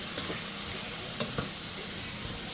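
Seasoned smoked turkey sausage and chicken breast sizzle steadily in a pan while a utensil stirs them, adding a few light scrapes and clicks over the constant frying hiss.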